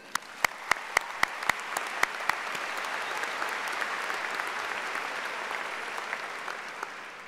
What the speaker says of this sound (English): Can we hear applause for her,